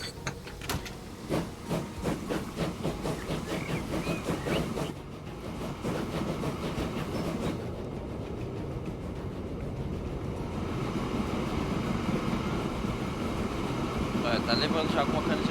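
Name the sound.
sugar cane train running, from the video game Transport Fever 2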